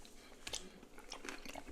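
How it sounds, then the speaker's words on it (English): Crunchy noodles in duck mac and cheese made with 3-year cheddar are chewed close to the mic, giving a few soft, quiet crunches and bites. "Those noodles give this a nice crunch."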